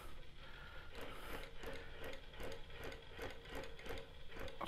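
An Innova longarm quilting machine stitches at stitch length 2 while basting a quilt loaded on the frame, giving a quiet, steady, rapid rhythmic clatter.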